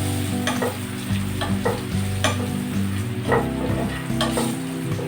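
Spices sizzle and fry in a hot pan with turmeric and salt while a spoon stirs and scrapes steadily, close and loud, with repeated scraping strokes over a continuous hiss and no talk.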